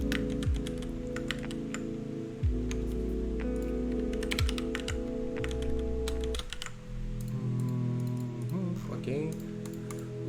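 Rapid typing on a computer keyboard, a dense run of quick clicking keystrokes with a few heavier thumps, close and fairly quiet under intermittent talk.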